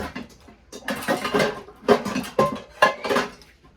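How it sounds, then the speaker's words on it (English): Pots and pans clatter and clank in a home kitchen as a fry pan is pulled out, a series of close, sharp metallic knocks and scrapes with no talking. "you're also going to want to get a fry pan out"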